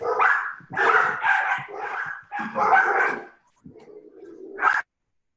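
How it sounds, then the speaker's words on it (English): Several dogs bark in quick, loud bursts close by, overlapping yips and barks followed by a short whine, with no talk over them. "My dogs are about to go off."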